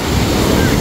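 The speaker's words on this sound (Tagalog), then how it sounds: "Tignan nyo naman yung alon guys" Ocean waves wash onto a beach in Cancun, Mexico, producing a loud, continuous roar of surf mixed with heavy wind buffeting the microphone.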